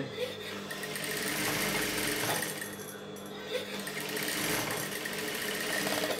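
A sewing machine stitching a cloth face mask, its steady close whirring hum running continuously with only brief dips in speed.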